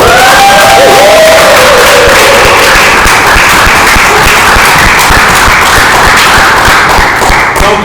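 A live crowd at a stage show gives a loud welcome as a performer comes on, with dense clapping, cheering and whoops merging into a sustained roar that stays strong throughout.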